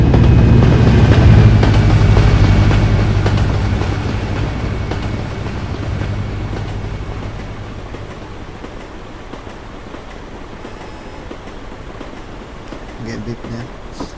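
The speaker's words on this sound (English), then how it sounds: "You can actually hear the train chugging along." A train rumbling across a crossing in Euro Truck Simulator 2, a low continuous rolling drone that is loudest at first and slowly fades as it passes, with in-game truck ambience underneath.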